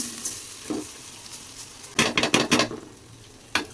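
Rice goes into a pot for village-style pulao with ginger and garlic paste, then gets stirred: a quick burst of scraping and clattering strokes over a steady sizzle, close and fairly loud, with one last scrape near the end.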